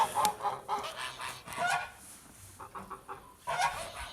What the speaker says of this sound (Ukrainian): Наступний у нас іде молоденький гусачок.